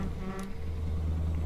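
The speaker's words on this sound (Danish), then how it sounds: "Jeg skal bare lige sikre mig, at hornene stadig virker." A truck horn honks in Euro Truck Simulator 2, a loud sustained tonal blare held steadily for over a second, close and alone with a low engine hum beneath.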